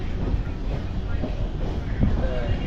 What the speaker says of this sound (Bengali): ট্রেনে ক্রসিং হচ্ছে এখানে